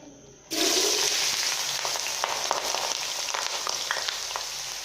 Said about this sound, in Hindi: अब इसी ऑयल में हम आलू डालकर उन्हें 5 मिनट फ्राई करेंगे।